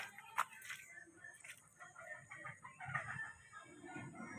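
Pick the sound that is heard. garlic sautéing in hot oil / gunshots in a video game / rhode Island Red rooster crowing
rhode Island Red rooster crowing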